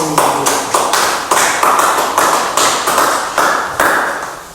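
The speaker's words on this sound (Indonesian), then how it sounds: "Beri tepuk tangan pada kelompok 1." Clapping from a group in a classroom, a run of sharp hand claps in a fairly even rhythm, close and loud with no voices.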